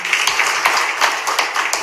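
Brief burst of applause from attendees at a city council meeting in Tainan, a steady wash of many hands clapping at moderate loudness with no talk over it.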